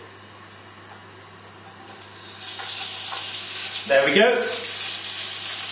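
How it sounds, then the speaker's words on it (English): Bacon added to hot oil in a pan sizzles steadily, the frying hiss rising sharply as it hits and then holding loud and continuous, with a brief spoken remark over it. "then we're going to add in the bacon. And hopefully this will be nice and loud and sizzly."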